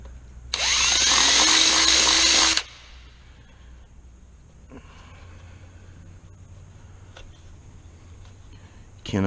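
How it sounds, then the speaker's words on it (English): A power drill whines loudly for about two seconds, drilling holes in a Hawk 250 motorcycle, then stops, followed by quieter handling clicks and scraping. "when you go drilling holes in your bike"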